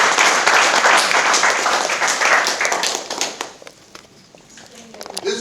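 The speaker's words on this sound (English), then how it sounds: "Give him a round of applause" Audience applause for a speaker being introduced at a network marketing event, dense clapping that is steady for about three seconds, then thins into scattered claps and fades.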